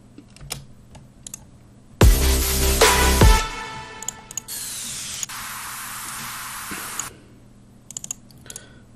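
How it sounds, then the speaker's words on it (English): Fat white noise downlifter in a future bass drop: a loud burst of dense hiss with a falling tonal sweep, then a steady, quieter sustained noise wash that cuts off abruptly. "I want a fat white noise downlifter in the drop."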